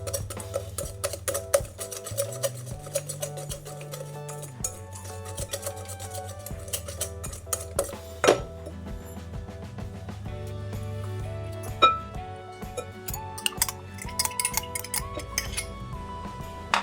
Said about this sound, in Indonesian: ini diaduk-aduk saja sampai semua tercampur rata